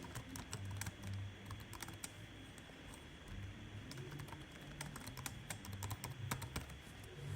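Steady, rapid typing on a computer keyboard while entering text in AutoCAD, with crisp close-up key clicks and occasional heavier keystrokes like the enter key over a low background hum, no voices.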